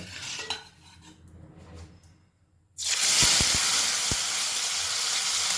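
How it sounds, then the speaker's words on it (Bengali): Fish pieces drop into hot salted oil in a wok for an amodi fish and winter vegetable dish. A soft clatter gives way to a sudden, loud, steady sizzle with a few sharp knocks, close up. "লাল লাল করেই ভাজবো মানে কড়া করে ভেজে নেব"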